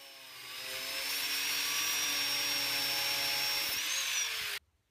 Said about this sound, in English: Next I cut a 3/4 16 nut in thirds.